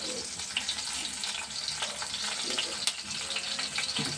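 Onions fry in a pan in an Indian kitchen, a continuous close crackling sizzle with small pops and bubbling throughout.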